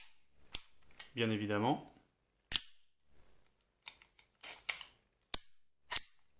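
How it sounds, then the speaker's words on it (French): A Blackwater BW1911 R2 CO2 blowback airsoft pistol cycles its slide in sharp, close metallic clacks, several spaced snaps across the clip, with someone speaking briefly in French between them. "qui dit blowback dit culasse mobile"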